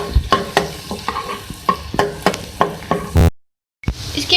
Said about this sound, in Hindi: सबसे पहले ऑयल में मैं डालूंगी लहसुन, थोड़ा सॉटे कर लेंगे।